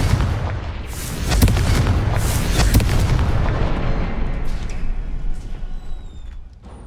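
The Confringo fire spell is cast in Hogwarts Legacy, with a loud fiery blast and booming bursts that rumble and then slowly die away.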